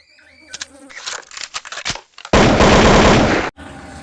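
Gunfire in an edited romance scene: a sudden loud, dense burst of rapid shots that lasts about a second, following brief talk and clicking sounds and then cutting off abruptly.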